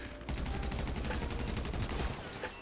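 Rapid automatic gunfire in GTA Online, a long unbroken string of evenly spaced shots rattling at close range.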